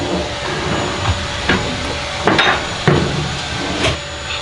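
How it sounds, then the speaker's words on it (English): A vacuum cleaner picks up debris inside a boat with a steady hissing roar. Several sharp knocks and clunks from the hose striking surfaces break through, close and fairly loud. "We are vacuuming up all the debris"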